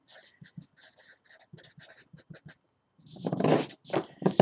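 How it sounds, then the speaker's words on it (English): Chalk or marker scratching across a board as an equation is written, a run of short strokes and taps, then denser, louder scraping in the final second and a half, close and without talk. "So I'm going to write it here again."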